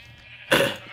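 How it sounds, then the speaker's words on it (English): A Minecraft sheep on a small walled-off sheep farm lets out a single loud bleat midway, with near silence before it and a quieter tail after. "Got my sheep farm here, just temporarily."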